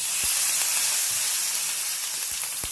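Curry leaves hit hot oil for a tempering of mustard seeds, cumin and turmeric, giving a loud, continuous hiss with a steamy sizzle and a few low thumps.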